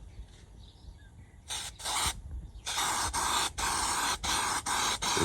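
Spray adhesive from an aerosol can sprayed onto a Chevy car headliner: several hissing bursts, two short ones then a run of longer sprays with brief gaps, close and loud with no talk.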